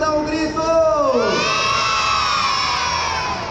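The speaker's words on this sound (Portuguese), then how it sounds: "Quem está animado, dá um grito!" A crowd of children at a kids' cooking workshop for chocolate sticks lets out one sustained, loud excited shout and cheer, close and filling the space, then fading slightly toward the end.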